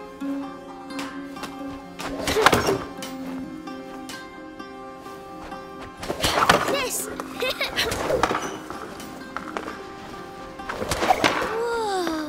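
In A Plague Tale: Innocence, sling stones strike targets in three sharp impact bursts spread across the clip, each followed by brief clattering, with game character voices talking throughout.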